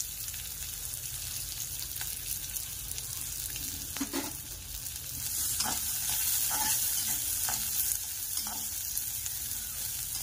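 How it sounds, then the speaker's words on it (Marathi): Onion and coconut frying lightly in oil for a dubuk vada curry, a steady broadband sizzle throughout with occasional soft scrapes of stirring, growing slightly louder midway, no voices. "त्याच्यामध्ये आपल्याला कांदा आणि खोबरं हलकंच भाजायचं"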